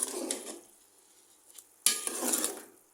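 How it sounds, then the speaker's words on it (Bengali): Beef liver bhuna stirred in a pot, a spoon scraping and clattering against metal in two bursts with a quiet gap between, close and fairly loud. "কলিজা ভুনা করতেছি।"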